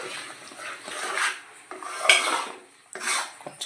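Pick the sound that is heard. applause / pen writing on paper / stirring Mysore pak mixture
stirring Mysore pak mixture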